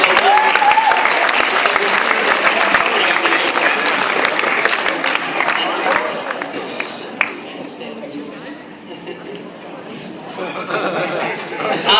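A school leavers' audience applauds loudly for their form teachers, dense clapping with scattered chatter and a few chuckles, easing somewhat toward the end then swelling again.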